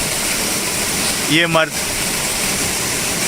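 A waterfall near Rishikesh gives a steady, loud rushing roar that fills the whole moment. Someone briefly speaks over the constant water noise.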